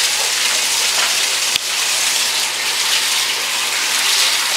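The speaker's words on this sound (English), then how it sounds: "So now we've got to rinse it under warm water" Warm water pours steadily from a tap over a hydro-dipped skull, a loud, close, even hiss of running water with a single brief interruption partway through, no voices.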